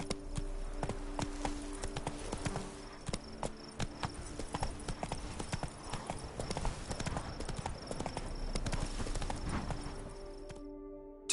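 Hooves of the horse Roach pound in a fast, steady galloping rhythm across the ground in The Witcher 3, loud and close, with a brief whinny and a voice speaking over the hoofbeats.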